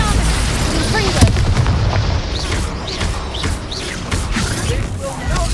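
Confringo blasting-spell explosions in the Hogwarts Legacy video game, loud booming bursts within a dense, roaring battle mix that continues throughout.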